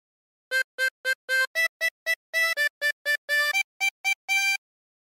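A 16-hole tremolo harmonica plays a short melody in separate, evenly spaced notes, each a brief breathy tone with a slight wavering quality, clear and alone.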